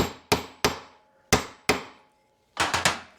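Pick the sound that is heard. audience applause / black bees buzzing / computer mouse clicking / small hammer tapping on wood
small hammer tapping on wood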